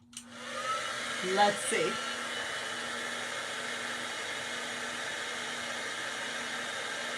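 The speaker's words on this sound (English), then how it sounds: "Your heat tool placed toward the underside of the lid will loosen it." A heat tool blows steadily on the underside of a tin can lid, a constant rushing hiss that runs nearly the whole time, with brief voices and some handling sounds near the start.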